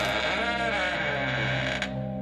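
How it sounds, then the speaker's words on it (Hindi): An old rusty door creaks open on its hinges, giving a loud, close, drawn-out groaning creak with a wavering, bleat-like tone. It sounds alone for about two seconds, with a small click near the end. "समीर ने जैसे ही पुराना जंग लगा दरवाजा धक्का दिया"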